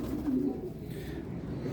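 Low, soft Teddy pigeon coos, close by, over a murky background hum.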